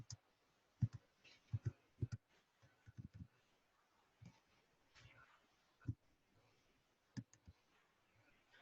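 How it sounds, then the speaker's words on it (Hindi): Scattered clicks and taps of typing on a computer keyboard, quiet and close, in irregular short bursts with pauses between keystrokes. "अब मुझे थोड़ा सा टाइप करना पड़ेगा।"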